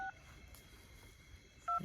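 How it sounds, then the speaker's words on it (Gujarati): Telephone keypad tones sound as a number is dialed, two brief beeps at the start and end of a short quiet stretch, faint and with no talk. "નાથાજીને ફોન કરો"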